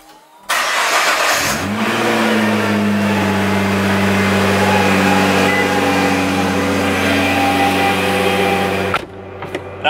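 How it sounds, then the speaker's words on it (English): A Nissan GT-R cold start: the engine cranks and catches about half a second in, then settles into a loud, steady, high idle that runs close and continuous before cutting off near the end. "So we'll do a cold start in the GTR."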